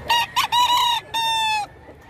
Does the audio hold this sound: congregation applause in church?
no